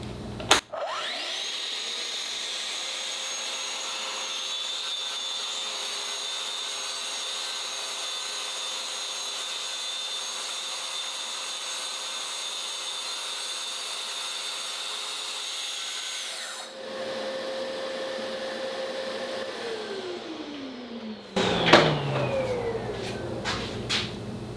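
A Festool TSC55 KEB cordless track saw spins up with a sharp whine and holds a steady high motor drone while cutting, then winds down with a falling pitch before some clattering handling noises.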